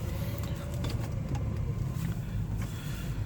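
A 1959 Cadillac Sedan Deville cruises along, its deep steady engine rumble and road noise heard from inside the car at moderate volume, with no one talking.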